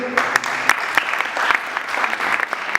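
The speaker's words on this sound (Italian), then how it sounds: "Facciamo un applauso." An audience at a stage presentation of singers, actors and a belly dancer claps steadily, a dense, lively patter of many hands close up, sustained throughout the short burst.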